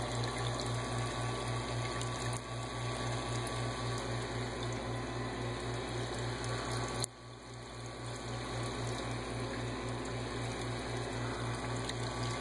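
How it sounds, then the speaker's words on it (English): Aquarium water poured from a home marine tank into a fish transport bag, a steady close watery rush over a constant pump hum, with a brief dip midway before the flow resumes. "we're going to take some water from my tank,"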